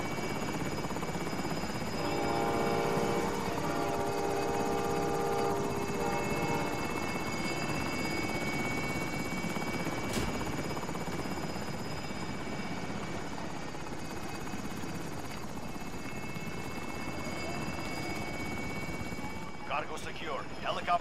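A helicopter in a video game, its steady rotor and engine drone running loud and unbroken throughout, with faint game voices and effects layered underneath.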